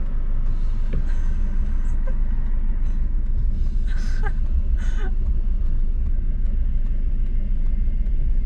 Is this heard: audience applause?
no